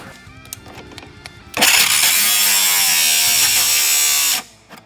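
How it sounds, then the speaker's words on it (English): A battery-powered Ridgid tool, used while fitting E36 over-fenders to a drift car, gives a few faint clicks, then whirs loudly and steadily for about three seconds before cutting out abruptly when it jams. "because it's battery powered, it's not that strong, it doesn't have that much torque, and it keeps like freezing up"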